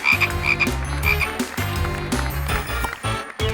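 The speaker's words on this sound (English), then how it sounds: "of course it's a frog" Repeated frog croaking over a steady musical backing, loud and close, with pulses recurring every second or so.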